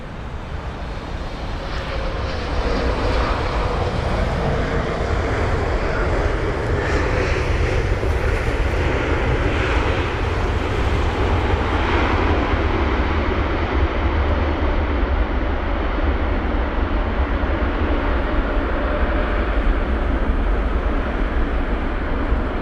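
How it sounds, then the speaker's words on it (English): A Turkmenistan Airlines Boeing 777-200 long range lands at London Heathrow, its engines roaring loud and steady in a broad continuous rumble that holds at full strength for the whole stretch. "We've got Turkmenistan Airlines up next. Here it is. It's going to be the 777-200 long range from Ashgabat."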